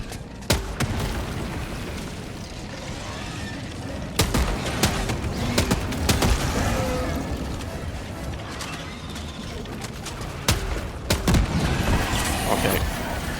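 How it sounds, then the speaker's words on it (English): Grenade launcher rounds explode in Helldivers on a hive world: several heavy booms spaced seconds apart, two of them close together near the end, over constant mechanical battle noise. "I am being a little cavalier with the grenade launcher."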